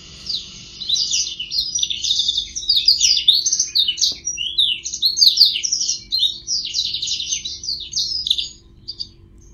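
A male blackthroat songbird sings a long, rapid, twittering high-pitched song in continuous bursts while spreading its wings, close and clear with no voices.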